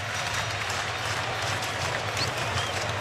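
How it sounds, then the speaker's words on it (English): San Francisco Giants baseball crowd buzzing in the bottom of the ninth, a dense, continuous stadium roar with scattered clapping and a low hum underneath. "The San Fran crowd starting to buzz a little bit more"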